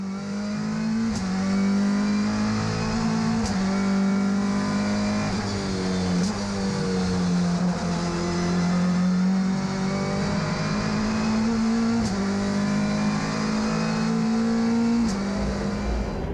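GT race cars lapping the Kyalami Grand Prix Circuit, a loud continuous engine drone with shifting pitch as cars accelerate, heard close and steady throughout.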